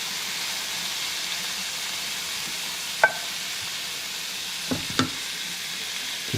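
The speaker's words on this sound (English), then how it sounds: "So we'll get that sizzling here." Chicken and mushrooms sizzle steadily in a pan for ramen, a constant close frying hiss with a few sharp clicks and pops of utensil stirring, no talk.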